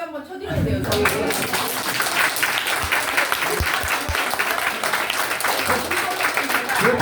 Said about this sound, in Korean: 진짜 이 자리에 박수 한번 쳐드려야 돼요.